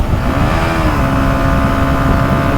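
A 2023 Yamaha XSR 125 motorcycle labors up a steep incline in sixth gear, its engine droning loud and steady with a slight rise in pitch, close to the rider.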